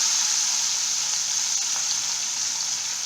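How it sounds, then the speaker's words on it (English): Katla fish pieces frying in hot oil, giving a steady, bright, hissing sizzle heard up close with no talking. "Oil is hot. I'll put the fish one by one. Wow, this sizzling sound"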